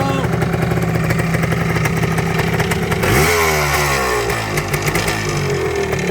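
Yamaha DT400 big-bore two-stroke dirt bike being ridden, its loud, close engine buzzing steadily and then revving up hard with a rising, rasping whine.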